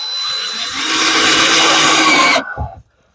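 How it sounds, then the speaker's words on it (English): A power drill driving screws into a wooden shed roof, a loud close high-pitched whir that holds for about two seconds before cutting off abruptly, followed by a brief thump. "You do not understand how much nicer it is having this drill."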